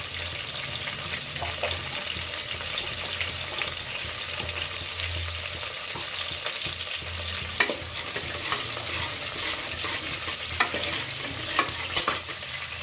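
Onion cooking in a pan, a steady moderate sizzle with occasional stirring scrapes and light clicks throughout.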